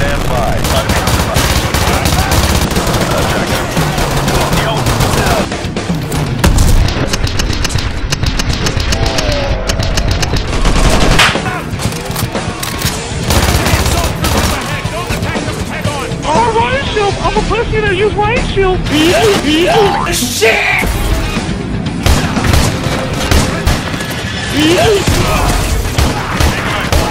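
Heavy naval gunfire and rattling machine-gun bursts fill a video game battle, loud dense volleys with booms and crackle running throughout, while voices shout over the shooting.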